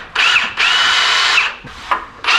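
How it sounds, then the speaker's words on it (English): A power drill whines into a VW Baja Bug spring plate in several bursts, the longest about a second, close and loud with brief pauses between. "I'm still drilling this one."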